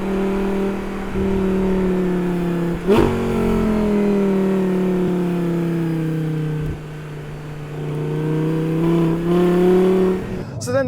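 An Audi R8 V10 with the R-tronic gearbox, its engine note rising steadily through the gears and dipping at each paddle-shifted change, heard from inside the car with someone talking over it.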